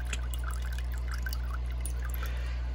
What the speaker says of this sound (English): you'll be able to see water's dripping out